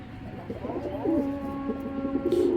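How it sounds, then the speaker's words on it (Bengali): Giribaz Naptha pigeons, a male and a female, coo in repeated low throaty phrases close by, with a steady rumbling murmur throughout. "এই হলো অরিজিনাল নাপ্তা কবুতর"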